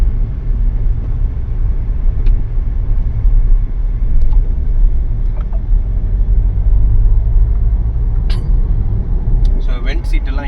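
A Mahindra Thar Roxx engine pulls in fifth gear with a steady, loud low rumble and road noise throughout, while a few faint clicks and beeps sound near the end.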